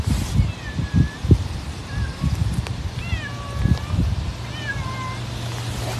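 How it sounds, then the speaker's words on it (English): A cat meows several times, short rising cries repeated across the stretch, over low rumbling and background noise. "there's Astro Kitty. Can you hear?"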